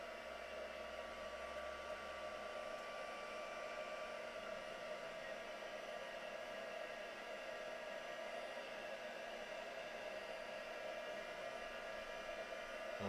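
A hair dryer blows steadily on a craft project for the whole stretch, a constant close whooshing roar with no breaks and no talking over it.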